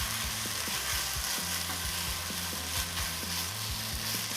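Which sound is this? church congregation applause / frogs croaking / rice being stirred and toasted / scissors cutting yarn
rice being stirred and toasted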